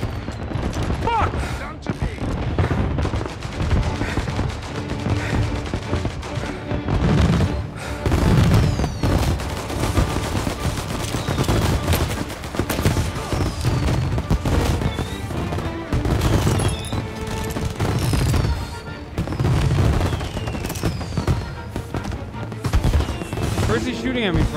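Video game gunfire crackles in dense bursts and volleys with occasional booms, a busy, loud battle mix running throughout, with game sounds and some voice layered underneath.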